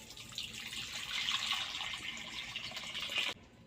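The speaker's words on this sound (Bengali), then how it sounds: "পরিমাণ মতো জল দিয়ে দেব।" Water pours steadily into a kadai set on the stove for cooking potatoes for aloo kabli, a continuous close splashing stream that stops abruptly near the end.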